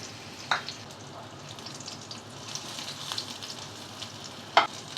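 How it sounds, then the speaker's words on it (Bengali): Gram flour (besan) fries in a pan in a home kitchen, giving a continuous close sizzling hiss broken by a couple of sharp stirring clicks, with no talking. "এই বেসনটা আমি একটু একটু করে ফ্রাই করে ফেলব"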